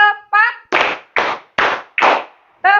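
A junior high school class claps in unison, four sharp group claps evenly spaced between loud chanted counting by the students' voices.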